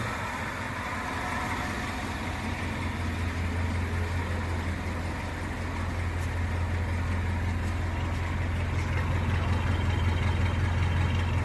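A 1966 Ford Galaxie 500 V8 idles smoothly and quietly at close range, a steady low rumble with an even, unbroken tone throughout and no voices.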